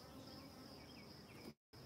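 Honey bees buzzing steadily at an open hive in a dense, continuous drone, cut by a brief moment of silence near the end.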